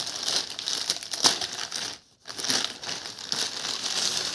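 Plastic wrapping crinkles and tears as a packaged hardcover comic book volume is unwrapped, in close, continuous rustling bursts with a brief pause midway.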